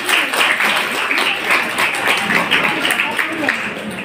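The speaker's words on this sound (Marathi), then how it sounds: "ज्यांनी बघितलं नाही त्यांनी टाळ्या वाजवा." Students at a career guidance camp for pupils finishing 10th and 12th grade break into loud, close clapping, a dense burst of hand claps that continues evenly for several seconds.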